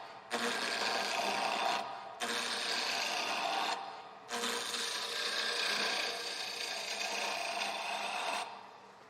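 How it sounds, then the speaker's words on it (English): A roughing gouge roughs out a wooden winged-box blank on a lathe, making a loud, continuous rasping, scraping cut in three long passes separated by short pauses, with no talk. "we're going to rough this out with my roughing gouge"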